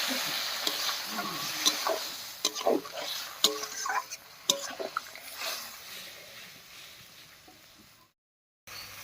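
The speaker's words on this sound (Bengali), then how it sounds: "এবারে মশলা বাটা জল দিয়ে খুব ভালো করে কষিয়ে নেব" Spice paste loosened with water being stirred and sautéed with potato and eggplant for a Bengali mixed river-fish curry, with soft sizzling and scattered clacks of a spoon against the pan, close by.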